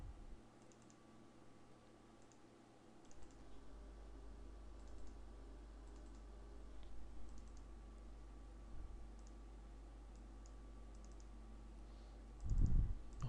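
Faint computer mouse clicks in Excel 2016, scattered single clicks spread over a quiet room with steady low hum and a brief thump near the end.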